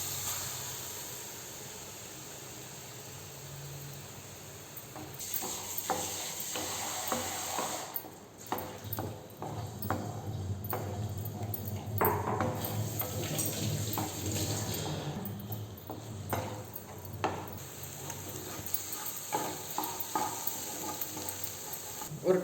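Eggs frying and being stirred with masala in a pan for coriander egg rice, a steady sizzle with scraping stir strokes that grows busier and louder after the first few seconds, with no voices.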